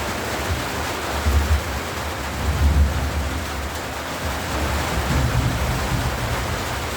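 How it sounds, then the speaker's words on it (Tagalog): Heavy rain pours in a dense, constant roar, with low rumbles of thunder swelling now and then beneath it, and no one speaking. "Ang lakas ng ulan."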